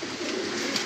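A Rampuri pigeon, a high-quality Rampuri kalanch bird, coos in a low steady rolling murmur, close and continuous for a moment with no talk over it.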